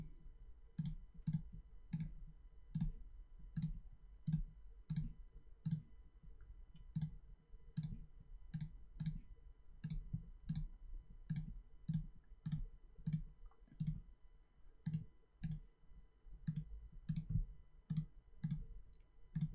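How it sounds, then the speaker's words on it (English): A computer mouse clicks steadily and rapidly as pen tool anchor points are placed in vector drawing software, a long run of crisp, evenly spaced clicks with no talking. "So I'm just clicking each point."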